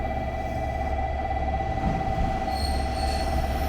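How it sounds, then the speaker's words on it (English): A two-car JR Kyushu Ibusuki no Tamatebako train rolls into a station in Kagoshima with a steady metallic whine and rumbling wheels, loud and close, brakes hissing faintly near the end. "pulling into the station after completing its first round trip of the day"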